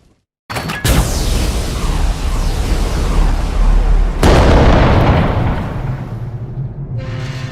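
A heavy gun fires in a Warhammer 40K war film: a sudden deafening blast, then a second massive boom with long rumbling decay and echoing aftermath.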